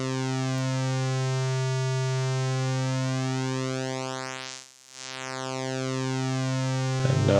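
A synthesizer tone has its pulse width swept by a slow sine-shaped LFO, giving a sustained buzzy chord whose harmonics glide and shimmer, narrowing to a hollow dip midway before opening back out.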